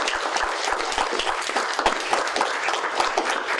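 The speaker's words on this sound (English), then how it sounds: "Please give her a round of applause." An audience at a community humanities talk-back event gives a round of applause, dense steady clapping from many hands lasting a few seconds.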